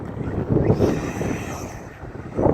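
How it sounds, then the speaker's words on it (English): Wind blowing at an outdoor park gusts and buffets across the microphone as a steady, loud, low rumble that swells and eases, with no voices. "There's a lot of wind up out here."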